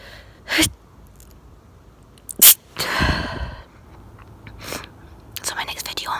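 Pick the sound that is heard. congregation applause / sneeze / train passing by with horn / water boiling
sneeze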